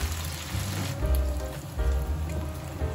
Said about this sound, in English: Add the previously fried meat pieces. Lower oil temperature to 300°F and fry for 2 minutes.